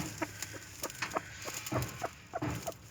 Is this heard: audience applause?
no